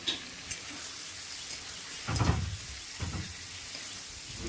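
Chunks of pointed gourd, potato and soybean fry in oil in a pan, giving a soft, steady sizzle with a few louder stirring bursts, close by and fairly quiet.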